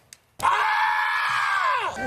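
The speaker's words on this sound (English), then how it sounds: "Let's go to some screaming from some of Juan's friends." A crowd of protesters in Washington Square Park screaming into the sky: a loud, sustained group wail that starts abruptly after a brief click, holds for about a second and a half, then falls away.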